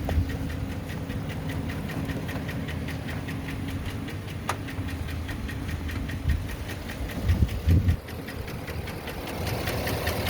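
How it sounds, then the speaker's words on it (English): Rough idle of a Chevy Suburban engine during an engine flush, a steady close mechanical chug with regular ticking and uneven knocking pulses, running alone without talk. "we want you to hear this rough idle. Listen to how rough it is."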